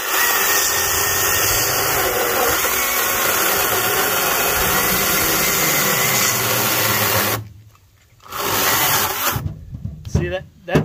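Greenworks GS110 commercial electric top-handle chainsaw cuts through wood with a loud, steady buzzing whine for about seven seconds, then stops abruptly, followed by short bursts as the saw is restarted and released.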